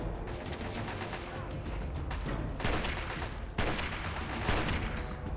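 Rapid gunfire from the video game Fallout: Tale of Two Wastelands, dense bursts of repeated shots with a few sharper loud cracks, continuous and fairly close throughout.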